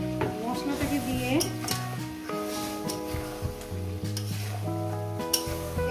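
Chicken that has been frying for about seven minutes sizzles steadily in a pan as spice paste is added and stirred through, with light scraping and clinks over a continuous hiss and background music.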